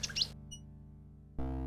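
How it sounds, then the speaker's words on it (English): Nightingale song from the King's Quest VI video game, a short electronic chirping burst at the start, then a sustained synthesized music tone with a steady backing drone. "A nightingale perches on a high branch of the tree. She sings the most beautiful song Alexander has ever heard."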